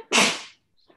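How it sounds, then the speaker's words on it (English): One sharp, loud sneeze bursts out close by, then a faint breathy sound follows. "He hears your sneeze and says,"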